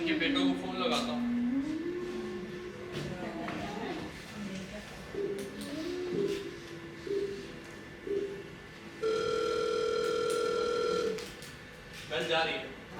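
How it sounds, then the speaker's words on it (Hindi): An outgoing call's ringback tone repeats as a steady electronic beep at a theatre performance, with voices and a burp-like vocal sound around it. "बेल जा रही है।"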